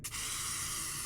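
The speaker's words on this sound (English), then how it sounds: "blood began spraying from each of the runes on her body like water shooting from a fire hose" Blood spraying from runes on a girl's body in the Corpse Party: Book of Shadows video game, a sudden loud gushing hiss that starts with a brief burst and then pours on steadily like a fire hose.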